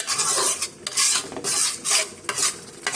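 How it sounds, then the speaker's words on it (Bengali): Spice paste being stirred and fried in a pot for a prawn and taro stew with tomato, scraping stirring strokes in a steady rhythm over a continuous close sizzle. "মশলাটা ভালোভাবে কষানো হোক"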